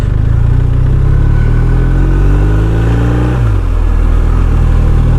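A 2021 BMW R1250 RT motorcycle engine revs up smoothly with a steadily rising pitch, then drops sharply and settles into a lower, steady drone. It is close, loud and continuous, with no talking.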